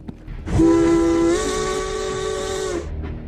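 A steam train whistle blows in a War of the Worlds fan video game, one long loud sustained tone that shifts pitch slightly midway, standing alone over a rumbling background.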